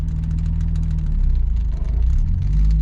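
A manual transmission car reversing while the driver learns stick, its engine producing a steady low rumble near idle that rises gently as the throttle is applied, close and continuous with no talk.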